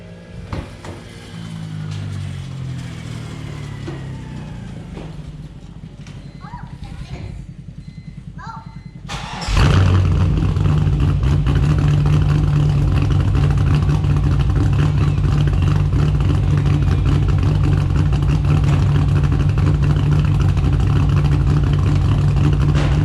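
A BMW E46 engine cranks over and catches after quiet shop sounds, then settles into a loud, steady idle that drones on close by for the rest of the stretch.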